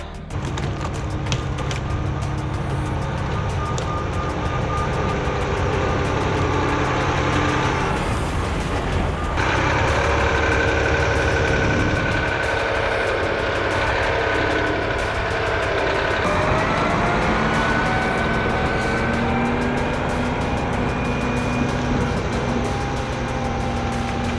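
A dump truck's diesel engine rumbles loud and steady as it arrives with the first of six loads of fill for regrading a sloped driveway, its drone shifting in pitch midway through.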